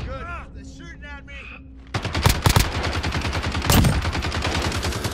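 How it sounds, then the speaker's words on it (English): Rapid bursts of automatic gunfire crackle in a Call of Duty Modern Warfare firefight, following a stretch of voice chatter, with a couple of sharper, louder shots standing out amid the steady stream of fire. "They're shooting at me."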